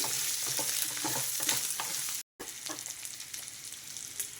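Mutton spleen fries and sizzles in hot oil in a pan, a steady close crackle with occasional stirring scrapes and a brief dropout midway.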